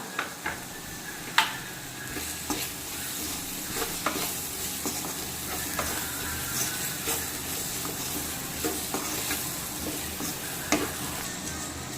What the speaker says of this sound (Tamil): இப்போ குடமிளகாய் வந்து எண்ணெயிலே 1 நிமிஷம் வந்து நல்லா வதக்கிக்கலாம்.